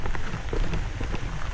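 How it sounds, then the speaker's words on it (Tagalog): Steady rain pours down onto surfaces, a dense, even hiss with scattered nearer drops, continuous and fairly loud for a brief moment. "Walang tigil ang ulan."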